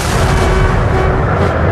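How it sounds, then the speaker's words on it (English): Heavy cannon barrage from a battery of muzzle-loading field guns in a Napoleonic-era battle, a dense continuous roar of booming fire at close range, loud and sustained throughout with no gaps between shots. "Napoleon ordered a barrage of his most powerful cannon."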